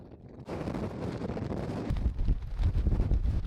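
Strong wind in an Alaskan rainstorm roars and buffets against the microphone, starting low and quickly building into a loud, gusty rush that continues throughout.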